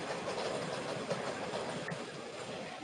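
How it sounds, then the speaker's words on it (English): An above-ground subway train rolls past, a loud steady rumble with rail clatter and hiss filling the whole stretch without letup. "The subway's going by."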